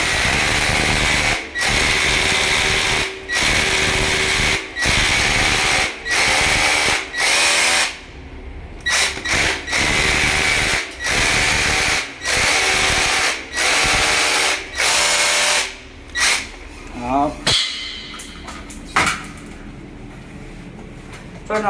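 A power drill bores holes into a wall for plastic anchors while an electric clothes-drying rack is being installed, giving loud, repeated bursts of high-pitched whirring separated by short pauses throughout.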